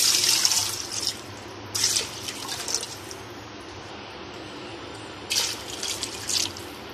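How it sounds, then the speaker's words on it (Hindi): Water is poured into a pressure cooker holding small beef pieces for nihari, in short splashing bursts at the start, middle and end with quieter gaps between. "अब हम इसमें पानी ऐड करेंगे 3 से 4 गिलास।"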